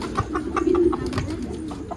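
A captured runaway pigeon coos close by in a low, throaty, pulsing call, repeated several times in quick succession.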